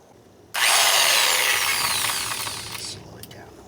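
A power drill whirs loudly for a few seconds while installing a garage door key lock, then its pitch winds down, followed by a couple of faint clicks.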